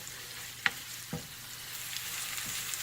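Crushed garlic and grated ginger frying over medium heat in a pan, a soft steady sizzle with a few faint stirring clicks and scrapes.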